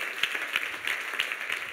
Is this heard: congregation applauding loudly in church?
yes